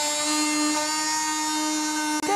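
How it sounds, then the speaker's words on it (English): A handheld oscillating multi-tool runs steadily with a high, tonal whine that holds level throughout, close and loud, with a brief dip near the end. "So if I just turn this on. And again, is that utilising that oscillating motion"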